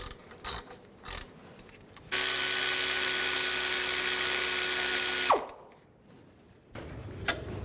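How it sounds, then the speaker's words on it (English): A powered tool with a T45 socket removes the brake caliper bolts on a Ford E-250. A few scattered clicks come first, then a loud, steady whir for about three seconds that winds down as it stops. "Take these two caliper bolts out, right here and here. Use a T45 socket."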